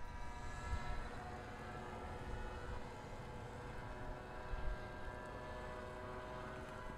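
An RC Decathlon model airplane in flight, its motor making a steady droning whine with faint harmonic tones, fairly quiet and constant with slight swells as it passes, with no talk.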